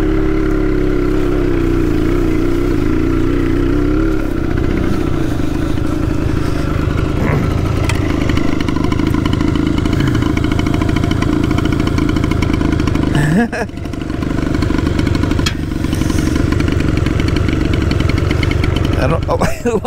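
Minibike engine running near a collection of bikes spanning a 1974 Harley to a 2024 Honda, a loud steady idle with rough clattering pulses throughout and a brief dip and catch near the middle.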